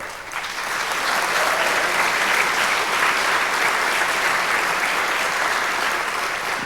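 A banquet hall audience applauds newly welcomed sponsors at an awards dinner, steady sustained clapping from many hands that swells in and holds for several seconds without talk.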